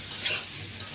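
Rice and lentils with salt fry in a pot for khichuri, a brief close sizzle with two quick stirring scrapes and no voices.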